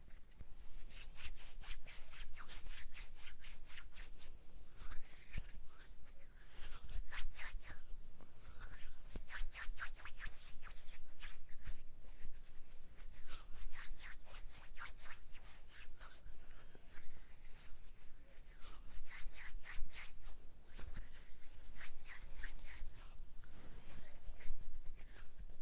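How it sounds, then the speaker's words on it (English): Hands rub together in a close, continuous ASMR-style run of dry friction strokes, with rapid scratchy bursts and brief pauses throughout, quiet and without speech. "make a little bit of hand sounds"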